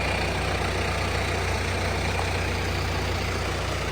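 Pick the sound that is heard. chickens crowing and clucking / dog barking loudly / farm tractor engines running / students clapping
farm tractor engines running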